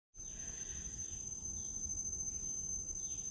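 Grasshoppers in a forest trail in Kuala Lumpur keep up a steady, shrill high-pitched chirring drone, continuous and even throughout, with faint low background rumble and no talking.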